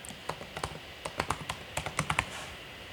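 Fingers tap out a password on a computer keyboard: about fifteen crisp, close keystrokes in uneven bursts, heard alone in a quiet room.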